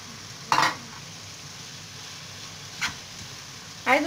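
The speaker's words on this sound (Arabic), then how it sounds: "واحنا معانا الحاجة تبلت شوية اهيت، نحط عليها السبانخ" Spinach is added to a frying pan of seasoned eggs, with a low continuous sizzle and three short bursts of stirring and scraping against the pan, close and fairly quiet.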